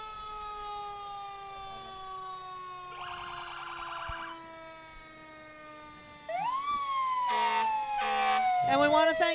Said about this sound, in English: Timothy Volunteer Fire Department with an engine and a truck